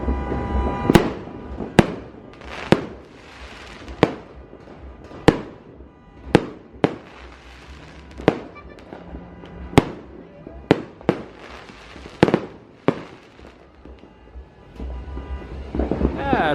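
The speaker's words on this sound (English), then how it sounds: "we might get some fireworks landing on top of our Kubo up here." New Year's Eve fireworks burst around a house in a built-up neighbourhood, a dozen or so sharp cracks and bangs at irregular intervals, some loud and close, others farther off, over a steady background rumble with faint voices.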